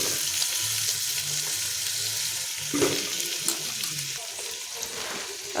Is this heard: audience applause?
no